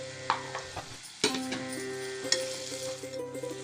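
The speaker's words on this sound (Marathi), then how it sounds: "कांदा टोमॅटो मऊ होईस्तोवर भाजायचा" Chopped onion and ripe tomato sizzle softly in a pan, with a steady faint frying hiss broken by a few stirring scrapes and taps.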